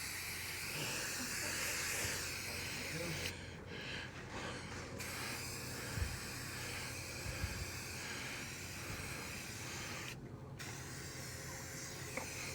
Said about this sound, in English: Could be a little spray paint.